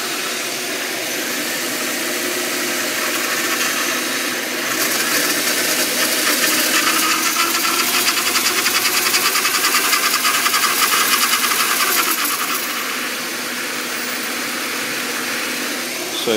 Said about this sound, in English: And the power steering is making a loud noise.